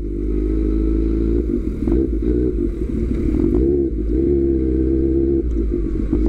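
A Kawasaki Ninja H2 motorcycle rides on a public road, its engine giving a loud, steady low rumble up close throughout, with slight shifts in pitch and some mechanical clatter.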